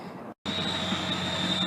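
A train passes close by and slows down near a community park, giving a loud, steady rumble with a high squealing whine from the wheels after a brief cut.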